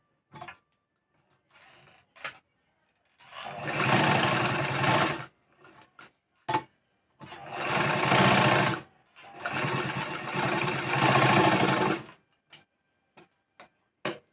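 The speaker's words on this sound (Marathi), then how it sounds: "त्याच्यासाठी आपल्याला इथून इथून शिलाई मारून सरळमध्ये अशी जिथे आकून घेतलेला आहे आपण तिथून शिलाई मारून घ्यायची आहे तशीच मी मारून घेते आता" A sewing machine stitches the front neckline of a blouse in several loud, steady bursts of whirring, separated by pauses filled with small clicks and taps of handling the fabric.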